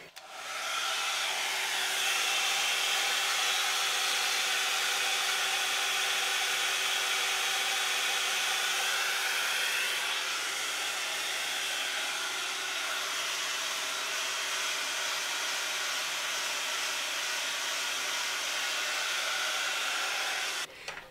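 A rotating hot air brush styles short fine hair in a bob, giving a steady, loud, close whooshing blower hum with a faint motor whine that runs almost unbroken.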